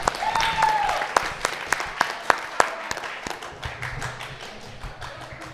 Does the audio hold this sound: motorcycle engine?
no